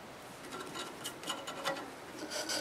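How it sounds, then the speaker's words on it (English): Sandpaper rubbing inside a London plane wood bowl on a lathe, a faint, soft raspy scrubbing in short uneven strokes. "I think it's time to go ahead and try to sand the inside of this"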